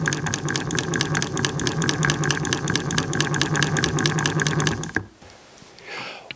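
An American hand crank driving a Willcox and Gibbs sewing machine gives a loud, rapid, rhythmic clatter of gears and mechanism, running steadily for about five seconds before stopping abruptly into near quiet, with no talk.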